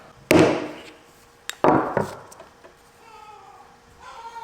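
A hammer striking a campervan flooring sample, two loud, close thuds with a lighter tap between them, each followed by a short ringing decay, then quiet.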